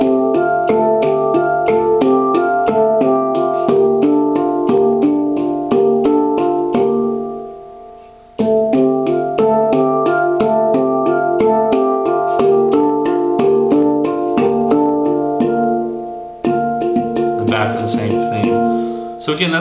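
Resonant metallic handpan tones are struck together as chords in a quick, rolling pattern, pausing twice before the ringing pattern resumes.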